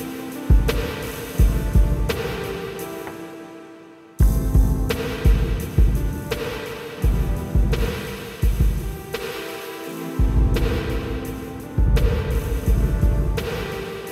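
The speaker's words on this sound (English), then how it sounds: "The first one is called Essex Reverb and sounds like that." A drum beat with sustained chords plays through the Essex Reverb effect on a Roland SP-404 MKII sampler, washed in a spacious reverb tail that lingers between hits, with a brief drop before the loop restarts.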